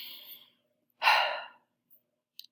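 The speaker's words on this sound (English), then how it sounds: "I take a breath." A deep breath taken during a mindfulness exercise: a faint exhale, then a close, breathy inhale lasting about half a second, followed by a quiet pause and a tiny click.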